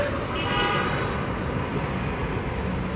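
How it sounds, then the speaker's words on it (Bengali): A fire service vehicle arrives at a police car fire on the Malibagh flyover, its horn sounding amid a steady, dense roar of road traffic throughout. "ফায়ার সার্ভিসের আওয়াজ আমরা শুনতে পাচ্ছি ইতিমধ্যে ফায়ার সার্ভিসের গাড়ি এসে পৌঁছেছে"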